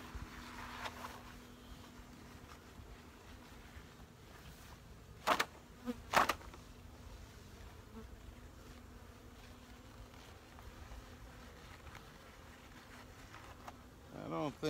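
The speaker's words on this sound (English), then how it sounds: "They're doing a little more buzzing than they did" Honey bees buzz around an open, weak hive during requeening, a faint continuous hum with occasional closer insects passing, plus a couple of brief louder knocks partway through.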